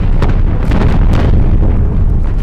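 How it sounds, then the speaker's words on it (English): Explosions echo from the mountains in a dense, continuous roar of overlapping blasts and booms, loud and sustained throughout with several sharper bursts standing out. "But then, countless explosions echoed from the mountains."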